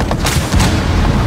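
A grenade exploding during a Rainbow Six Siege match, a loud, dense burst of booming and crackling gunfire-like rumble filling the short moment without any pause.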